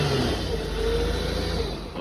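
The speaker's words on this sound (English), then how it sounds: "Just revving it up." A 2008 Nissan Quest's 3.5-liter V6 is revved briefly, a close, sustained engine roar that swells and eases slightly before trailing off at the end.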